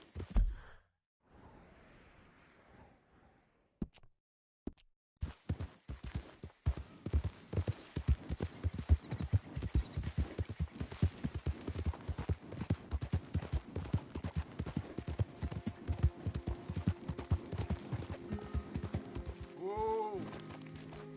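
Horse galloping in the Red Dead Redemption 2 video game: a steady, loud run of hoofbeats that begins after a few quiet seconds and continues to the end.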